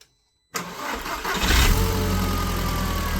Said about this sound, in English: Go on then, fire her up.